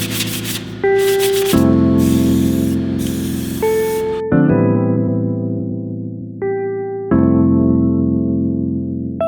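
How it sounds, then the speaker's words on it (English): Old metal pieces being prepared for black paint give off loud bursts of aerosol spray hiss, several sprays in a row with short pauses between, close to the microphone. "I'm just gonna sand them up and give them a spray of some black paint."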